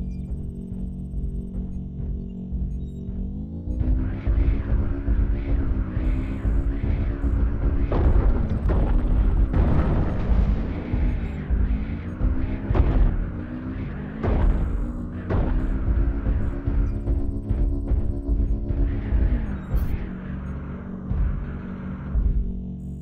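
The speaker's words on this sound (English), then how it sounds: "Artillery strike online." Artillery strike in a video game: a continuous barrage of deep, rumbling explosions with repeated loud booming impacts over a steady low roar, lasting the whole stretch with no talk.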